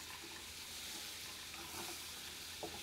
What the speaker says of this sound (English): We've got it sizzling, which means it's ready to go.